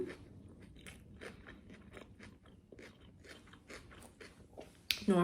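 Close, crisp bites and chewing on a homemade Vietnamese summer roll with shrimp in sticky rice paper, a run of soft crunchy mouth sounds with a louder sharp crackle near the end.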